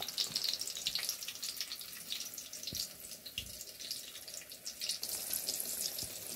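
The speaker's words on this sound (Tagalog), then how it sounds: "Nagpiprito po ako." Continuous crackling sizzle of bananas frying in hot oil, a bright hissing texture with occasional pops, steady throughout.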